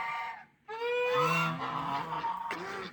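Wood ducks and geese call out in the snow with a run of loud, nasal honks and quacks that overlap close by, sounding alone.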